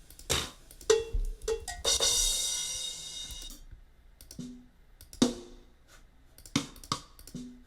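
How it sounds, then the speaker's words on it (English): Several sharp, hollow wooden clicks of a wood stick sample sound one at a time at irregular intervals, close and dry, with brief rustling between them. "It's just like a wood stick sound"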